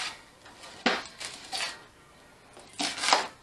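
A knife slices an onion on a cutting board, giving several separate sharp chops and taps, close and fairly quiet.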